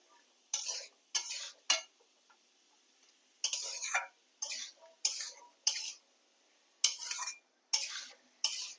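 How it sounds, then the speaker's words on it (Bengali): A spoon stirs kabuli chickpeas in a pan in short, separate strokes, about a dozen close scraping taps in an irregular rhythm, with quiet gaps between them. "কাবলি চানাটা দিয়ে একটু ভালো করে নেড়ে নেব।"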